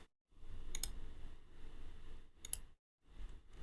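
A few crisp computer mouse clicks, close and isolated, in short bursts separated by brief near-silent gaps.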